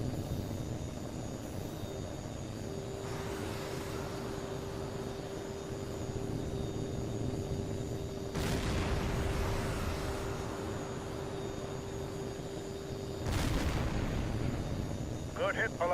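In the HAWX2 flight game, heat-seeking missiles launch at a jet, giving two sudden whooshing bursts over a constant jet-engine drone, with a steady tone holding beneath and quick clicks at the end.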